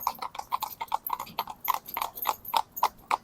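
Two harness horses trot in a pair, their hooves striking the ground in a quick, even clip-clop rhythm of sharp knocks that carries steadily and clearly.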